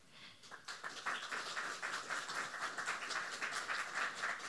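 Audience at a renewable energy conference applauding the chairman, a soft, distant, even wash of many hands clapping that swells slightly after the start and holds steady without talk.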